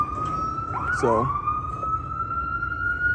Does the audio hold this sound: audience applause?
no